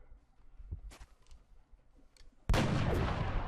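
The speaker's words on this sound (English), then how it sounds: "we're gonna take a headshot on that thing as quickly as possible and get rid of it" A single loud gunshot aimed at an alien Muton in XCOM: Enemy Unknown, bursting in abruptly after a stretch of quiet clicks and faint ambient sounds, with a long reverberant tail.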